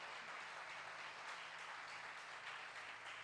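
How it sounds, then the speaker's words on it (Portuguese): Congregation applauding at a church evangelism conference, a steady even wash of clapping at low level that continues throughout, with no talk over it. "Você pode dar um aplauso para ele aí"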